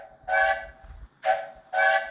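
Three loud, harmonic whistle blasts from a train character in the MSR series, each roughly half a second long, with the middle blast shorter and separated by brief gaps.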